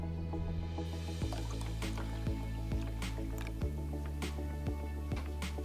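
Water poured into a beaker of oil, heard as a run of soft drips and liquid plops spaced through the pour against a steady low background hum, close and fairly quiet.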